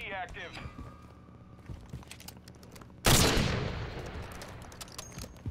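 First-person shooter game gunfire: scattered shots and clicks at first, then a loud burst of rapid fire around the middle that trails off into continued shooting, with a voice talking over it.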